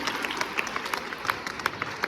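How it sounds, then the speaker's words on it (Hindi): Audience applause at a school Holi celebration: a steady patter of many hands clapping for about two seconds, moderately loud with no speech over it. "जोरदार तालियां इसके लिए बजाइए"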